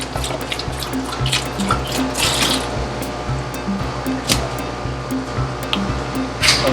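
Bleach trickles and splashes into water while Purigen filter media is being recharged, a steady liquid pour with small drips and clinks throughout.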